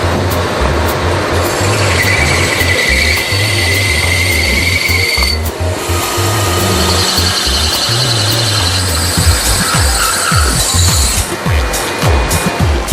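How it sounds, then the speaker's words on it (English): A large multi-tool machine drilling, countersinking and cutting water taps in a factory runs loud and continuous, with a steady low motor hum, high squealing tool tones and rhythmic mechanical thumps. "Each tap can now be drilled, countersunk and cut."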